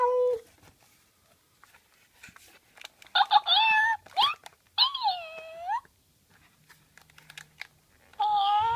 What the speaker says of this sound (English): The cat. Meow.